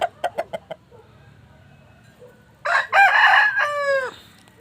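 Chickens give a few sharp, close clucks, followed by a quiet stretch and then a loud rooster crow that rises and trails off.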